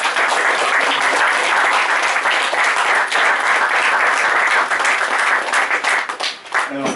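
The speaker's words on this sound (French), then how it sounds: "Je vous demande de l'applaudir." A French audience at a talk with film director Nicolas Winding Refn about his book gives dense, sustained applause, loud and continuous for about seven seconds before thinning slightly at the end.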